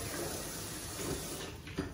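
Warm tap water runs steadily over salted catfish being rinsed in a sink. The stream splashes close and fairly soft, with a brief louder spatter near the end.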